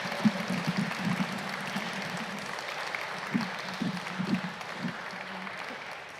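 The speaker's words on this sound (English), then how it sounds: "Let's give Christina a massive round of applause." Audience at a poetry anthology launch night applauding, steady diffuse clapping across the room, fairly soft, with low murmurs and a few voices under it.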